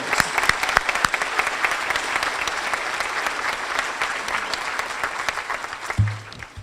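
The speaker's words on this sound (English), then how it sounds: "How about a round of applause for these top 3 donors?" Steady, dense applause from a sizeable crowd at a university brunch honoring donors, clapping continuously at an even level before fading out abruptly at the end.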